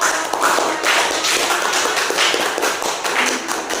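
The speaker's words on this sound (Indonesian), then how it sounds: "tepuk tangan untuk kelompok" A classroom of students claps for a presenting group, quick uneven hand claps at close range, fairly loud and continuous for a few seconds.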